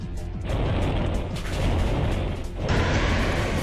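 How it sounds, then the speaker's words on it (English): Gear Grind move effect in Pokémon Reborn, a noisy grinding mechanical clatter in two dense surges with a brief dip between, loud and close with no talk. "I can just Gear Grind away on the Gardevoir."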